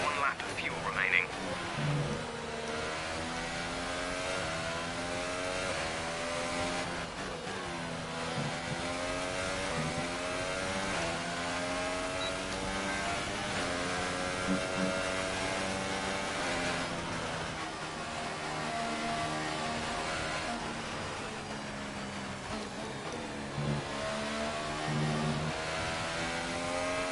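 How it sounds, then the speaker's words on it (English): Formula 1 car in the F1 2018 video game, rolling slowly back to the pits with a steady, droning engine whine that rises and falls in stepped gear changes, while a voice talks over it throughout. "So just driving slow back to the pits just to conserve the tyres"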